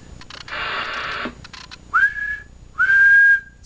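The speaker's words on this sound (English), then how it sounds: "When you're whistling, it's going to 15." A person whistling into a CB radio microphone on an American Spirit SS-3900EGHP radio, heard through the set: two clear rising-then-steady whistle tones separated by bursts of radio static and hiss.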